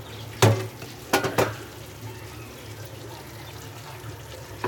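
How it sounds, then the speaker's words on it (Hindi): A spoon stirs potato and eggplant curry in a pot, making three or four sharp clinks against the metal early on, then only a faint, quiet background. "थोड़ा चम्मच चला लेते हैं।"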